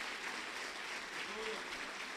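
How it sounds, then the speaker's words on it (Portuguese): A church congregation applauds during a worship service, a dense, even wash of clapping that stays steady throughout, with a faint voice briefly audible beneath it. "Aplauda Ele mais uma vez."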